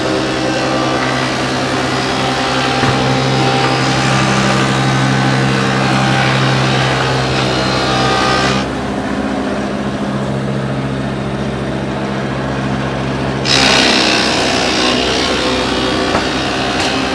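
A planer machine runs continuously while planing hickory cabinet door panels, a loud, steady roaring whine with a brief shift in tone partway through as a board passes, no pauses.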